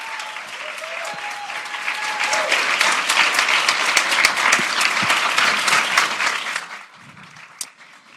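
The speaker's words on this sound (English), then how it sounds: "let's give a round of applause to Boston University Ensemble, who is accompanying me today" An audience applauds the Boston University Ensemble at a conference concert, a loud steady wash of clapping that swells, holds and then fades near the end.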